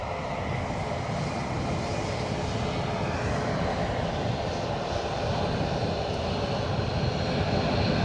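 A Boeing 737 Max 8 airliner at Edinburgh airport produces a steady, fairly faint broadband jet rumble and hiss, continuous and distant-sounding throughout, with no voices.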